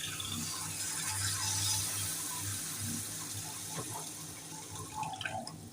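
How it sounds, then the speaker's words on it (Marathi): Water runs steadily into a cooking pan while making Kolhapuri misal, a continuous pouring splash with a low hum underneath, followed by a few faint clinks near the end. "थोडं पाणी घालूया"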